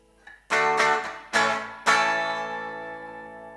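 Ural 650 electric guitar on a scooped out-of-phase pickup setting, with four strummed chords in quick succession, the last one ringing out and slowly fading.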